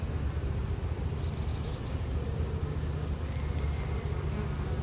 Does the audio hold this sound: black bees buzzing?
yes